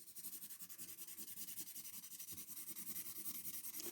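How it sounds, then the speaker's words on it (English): A 2B pencil rubbed back and forth over the edges on the back of a sheet of paper, a close, continuous rhythmic scratching with quick regular strokes throughout. "using your 2B or a darker pencil, go over the edges on the back"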